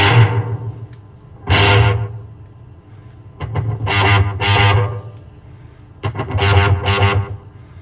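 Electric guitar played through a 1970 Electro-Harmonix Triangle Big Muff V1 fuzz pedal with delay rings out in loud, thick distorted chords. Three separate bursts strike in turn, each trailing off into repeating echoes.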